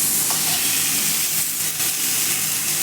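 Grated ginger and chopped chilli fry lightly in a pan, a loud close sizzle with stirring scrapes and a brief clink, steady throughout without voices.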